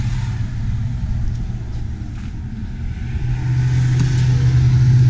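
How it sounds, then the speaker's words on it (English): Road traffic passing by near a parked 2018 Cougar Half Ton 25RES fifth wheel trailer, a loud steady rumble of vehicles and engines that swells toward the end, with no talk. "A lot of traffic today."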